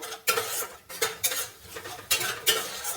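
Spiced egg curry is stirred in a pan after water is added, a utensil scraping and clinking against the metal in several distinct strokes, close and clear with no talking.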